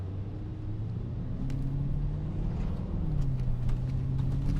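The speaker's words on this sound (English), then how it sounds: "Little F8 coming down the road." Steady low engine rumble from inside a 2023 Lamborghini Urus S while driving, with a faint tonal drone and no talking; a Ferrari F8 passing by does not stand out.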